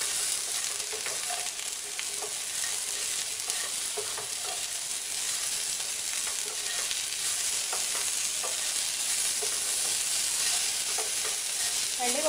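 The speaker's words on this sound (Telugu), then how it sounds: "ఒకసారి కింద నుంచి పై వరకు బాగా కలుపుకోవాలి." Gherkins and coconut fry sizzling in a pan, stirred with steady scraping, a constant loud hiss of frying under intermittent spoon strokes, close and without talk.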